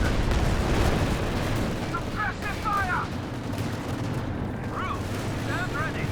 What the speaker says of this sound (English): Incendiary rounds from the stolen MG42.